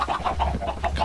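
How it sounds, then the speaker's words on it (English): Chickens cluck in a rapid, rhythmic series of short calls in the survival game Blood N Bones, close and moderately loud with no talk. "Oh, I've got some chickens by the way"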